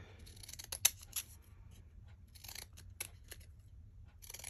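Scissors cut through a blue Christmas card, giving a few crisp, close snips spaced across a quiet room with no talking.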